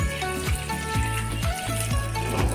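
Water scooped with a clean dipper and poured into a cooking pot while making Bisaya-style beef nilaga, a close, loud burst of splashing and sloshing with repeated pouring surges.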